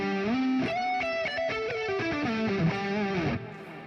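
A smooth, distorted lead electric guitar played through an amp modeler runs a sustained, singing melodic line of bending notes, close and alone, with no talk.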